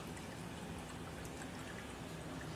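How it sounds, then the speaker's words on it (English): Water drains through a bell siphon in an aquaponics fish tank, a steady close trickling and pouring rush without pauses. "And so the water's draining."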